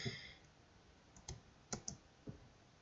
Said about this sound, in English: you will just click on that